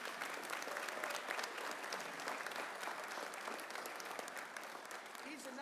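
A room at a Louisiana governor's education briefing breaks into dense, sustained applause for Kate, many hands clapping steadily for several seconds at moderate distance.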